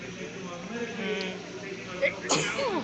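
A single sharp sneeze bursts out near the end, during a man's campaign-stop speech in Naples, Florida, with speech running throughout.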